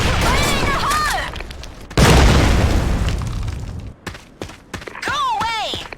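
Grenade blast in Sudden Attack, a loud close boom with a long rumbling tail, among game shots and clattering effects, with voices around it.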